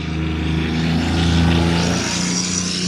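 A John Deere Gator XUV 865M diesel utility vehicle with CVT drives along a narrow road, its engine humming loud and steady from close by with a slight swell in the middle.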